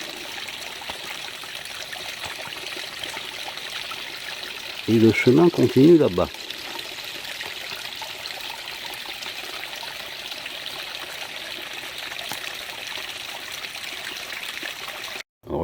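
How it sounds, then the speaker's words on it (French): A small stream trickles and flows steadily nearby for the whole stretch, a constant bright wash of water, with a person speaking briefly over it partway through. "Un joli petit ruisseau."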